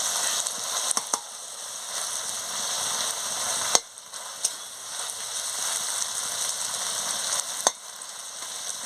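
Masala for chilli chicken sizzles steadily in a hot pan, a close, even hiss broken by a few sharp clicks and scrapes as a spatula stirs and cuts through it, with no voices.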